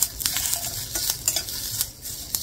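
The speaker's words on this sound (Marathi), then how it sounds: "मस्त आता मसाला आपला भाजतोय" Masala roasting in a pan for a cashew curry makes a close, crackling sizzle, broken by quick scraping stirs of a spoon against metal, with no speech.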